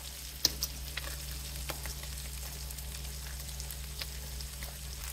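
Potatoes frying in a skillet over fairly high heat for a one-pan breakfast, giving a steady low sizzle with scattered faint pops and crackles throughout and no talking.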